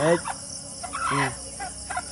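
A large chicken clucks and squawks up close in a few short, loud bursts with pauses between them, over a faint outdoor hum and no speech.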